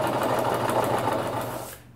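A sewing machine runs steadily while stitching fabric for a pack cover, a close, continuous mechanical whir with fine rapid needle ticks that slows and stops near the end.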